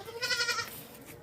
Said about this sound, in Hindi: वो बकरी का बछड़ा लेके जा रहा है